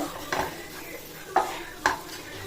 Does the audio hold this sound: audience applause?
no